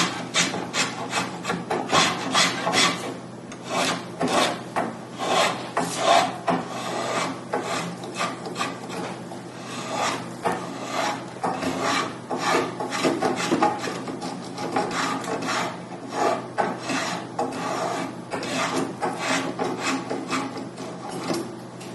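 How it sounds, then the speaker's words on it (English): A spokeshave shaves a wooden post for a Queen Anne side chair, producing continuous rasping, scraping strokes in a steady rapid rhythm, close and fairly loud, with no talking. "Now I'm going to run the scope shave down there."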